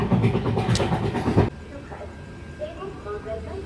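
A voice speaks over the loud interior rumble of the Mandovi Express running from Mumbai to Sawantwadi in monsoon rain, and then the steady, quieter rolling of the train continues alone.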